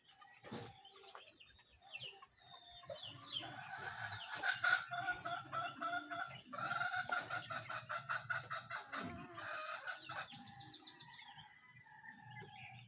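Chickens cluck steadily with a rooster crowing among them, a busy poultry yard chorus at moderate distance with overlapping calls throughout.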